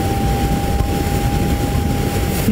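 Zero FXE 2022 electric motorcycle in sport mode, its motor emitting a steady high whine over heavy wind rush while riding, loud and continuous.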